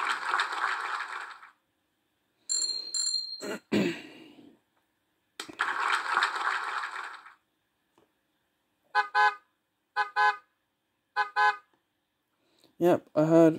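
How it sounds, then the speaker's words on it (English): Car horns honking in a traffic run game, several separate short bursts with silent gaps between them, some sharp repeated toots near the end, fairly close and clear. "Yep, I heard three of those horns."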